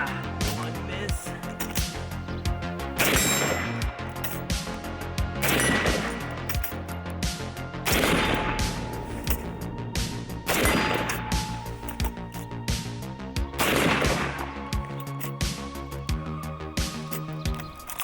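Yugoslavian SKS rifle fired outdoors at a small target: five loud, sharp shots spaced a few seconds apart, each with a ringing echo over a steady background hum.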